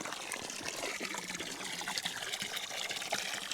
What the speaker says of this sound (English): she likes to drink out of the hose